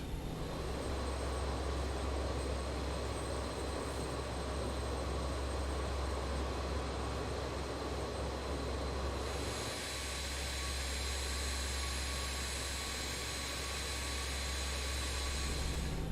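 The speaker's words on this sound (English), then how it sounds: "we're going to taxi all the way down here to the end of runway" BAE146-100 jet taxiing toward runway 26 in a flight simulator, a steady loud whine and rumble of engines that shifts tone slightly midway, with no talking.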